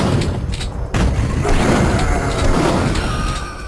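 Shotgun fire in a first-person shooter video game: loud, dense booming blasts, with a sharp hit near the start followed by continuous rumbling impact sounds.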